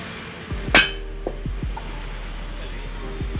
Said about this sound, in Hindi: बड़े हथौड़े की चोट से ये 5 किलो का हथौड़ा है और 5 से 7 किलो का हथौड़ा, जिससे इसे चोट मार कर निकाल रहे हैं